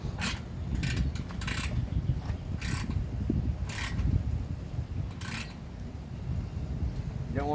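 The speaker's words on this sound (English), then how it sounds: "we tighten this band clamp up here" A band clamp being tightened on the seal of a 2010 Yamaha V Star Tourer 950 motorcycle gives repeated short ratcheting, scraping bursts close by over a low, steady background rumble.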